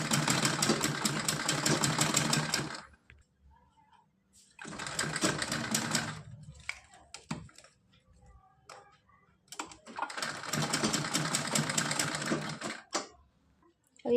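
A sewing machine stitches a small dress for a Kanha ji (baby Krishna) idol, running in three steady bursts of several seconds each, separated by quiet pauses with faint handling noises.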